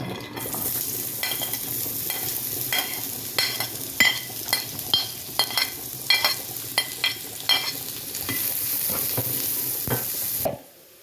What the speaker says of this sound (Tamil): இந்த வெங்காயத்தை போட்டு வதக்க போகிறோம்